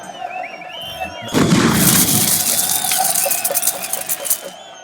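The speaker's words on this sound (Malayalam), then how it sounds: "വെടിക്കെട്ടൊക്കെ മതി." Fireworks burst in a film scene, a sudden loud boom followed by a dense crackling, rumbling barrage with whistling streaks and sharp pops, sustained and close.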